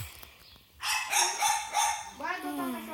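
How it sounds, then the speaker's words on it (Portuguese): A dog in the Minecraft video game barks several times in quick succession at moderate volume, followed by a brief higher whining or yipping cry. "Que barulho de cachorro chato, velho."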